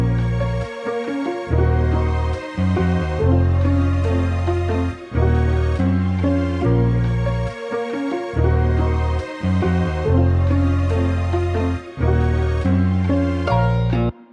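Dark melodic sample with strings drowned in reverb over heavy low bass, loud and continuous, swelling and cutting in repeating phrases about every three to four seconds.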